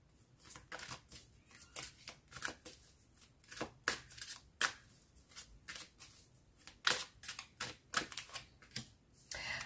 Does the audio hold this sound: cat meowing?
no